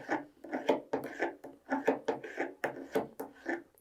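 Steel screwdriver shank rubbed back and forth along the edges of a woodworking card scraper set against a workbench, about ten rhythmic rasping strokes, close and clear with no talking.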